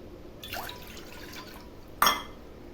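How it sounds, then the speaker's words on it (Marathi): Water splashes briefly into a cooking pot holding rice for jeera rice, a soft pour early on and a sharper splash near the end, close and fairly quiet with no talking. "मी सव्वा दोन पेला मी याच्यामध्ये पाणी टाकणार आहे"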